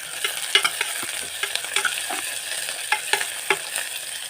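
Chilies fry in hot oil with garlic and onion in a pan, a close sizzle broken by frequent quick stirring scrapes and taps of a spoon, with no talking.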